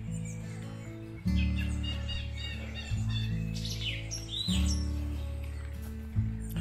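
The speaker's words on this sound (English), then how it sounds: "Lots of bird noise, which is quite pleasant." Birds chirp and tweet in Lune Millennium Park, bright calls scattered over a steady low outdoor drone, moderately close.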